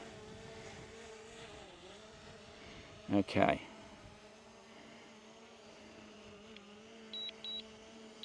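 A DJI Mini 3 Pro drone lands, its propellers giving a faint, steady whine under a brief spoken word and a short burst of nearby handling noise.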